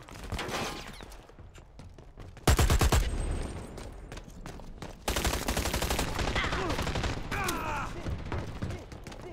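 Gunfire in the online shooter Dirty Bomb, with loud automatic bursts and rapid fusillades cutting in over game noise and faint player voices.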